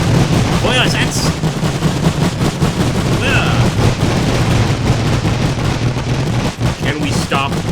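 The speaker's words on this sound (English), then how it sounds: "I think it's very important for us to start firing the machine guns" Rapid machine-gun fire from the Great War mod for Napoleon: Total War, a dense, continuous battlefield clatter of overlapping bursts mixed with other gunfire, with a voice faintly present beneath.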